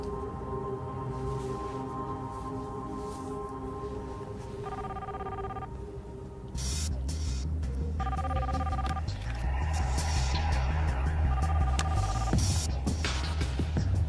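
A telephone rings on and off without being answered, its repeated electronic bell tones sounding over a low hum and room noise, moderately near, with no voices.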